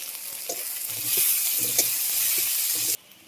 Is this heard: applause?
no